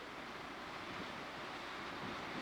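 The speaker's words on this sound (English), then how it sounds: "Watching the waves crash" Ocean waves crashing against the granite walls of a rocky Maine coast north of Thunder Hole, a steady, distant wash of surf with wind noise and no distinct individual breaks.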